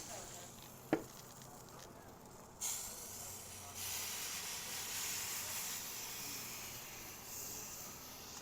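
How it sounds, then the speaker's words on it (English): Cooking spray hisses onto grill grates during a steak cook: a sharp click and a short burst come first, then a steady, close, broadband spray hiss runs for several seconds, with no talking. "Spray the grates."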